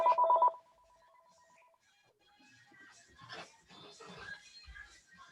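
A phone rings briefly during a seated fitness class, a short electronic trill that stops quickly, followed by faint background movement and distant voices.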